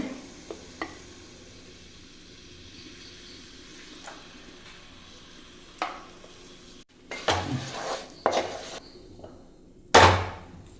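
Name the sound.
mixing lemon pickle with vinegar in a pan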